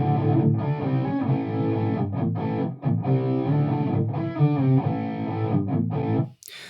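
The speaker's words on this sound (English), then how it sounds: "So here's that reverb sound just on its own." Distorted electric guitar tone through a cabinet with a very short, fully wet room reverb, fast decay, like a dark back-corner room; dense continuous playing with brief gaps, loud and alone.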